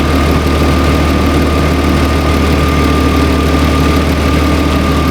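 A Hyundai Santa Fe engine idles loudly up close in gear under full electrical load, a steady low rumble with a faint whine on top, unchanging throughout and without any talking.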